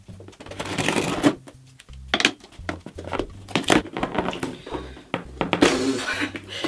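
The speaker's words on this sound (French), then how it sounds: "donc ciseaux." Scissors cutting open a parcel during an unboxing, close crinkly snips and rustling of packaging material in irregular bursts with short pauses, loud and near, with no talk over it.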